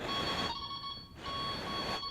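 A v2 fishing bite alarm gives two sustained electronic tones with a brief gap between them, steady and fairly quiet.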